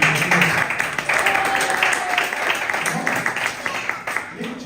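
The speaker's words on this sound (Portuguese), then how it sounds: "Aplauda o Senhor em nome de Jesus." A church congregation at an evening service claps steadily together, a busy wash of hands with voices calling out over the applause throughout.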